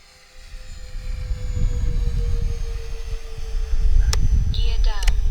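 A radio-controlled OV-10 warbird scale model airplane flies past at full speed, its steady engine drone rising and swelling as it approaches, with a few brief electronic beeps near the end.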